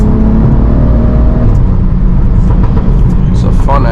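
BMW F30 335i with the N55 engine, a loud deep exhaust drone and low rumble heard from inside the cabin, the steady tone fading after a second into rough, crackly burbling as revs drop.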